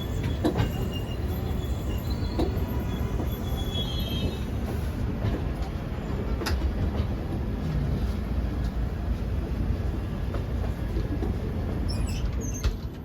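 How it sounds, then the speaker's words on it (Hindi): Darshan Express 12494 passenger train slowly gathering speed after leaving New Delhi station, a steady close rumble of wheels and carriage with faint rattles, heard from inside a non-AC coach. "धीरे धीरे ट्रेन पिकअप पकड़ रही थी।"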